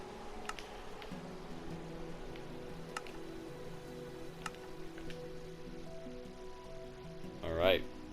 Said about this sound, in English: Yikes, it just started raining.